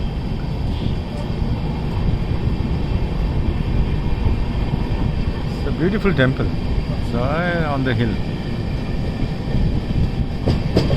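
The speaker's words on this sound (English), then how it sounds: "there is a train approaching." A train approaches along a railway, a steady rumble and clatter running throughout with a rising whine midway, while someone talks over it.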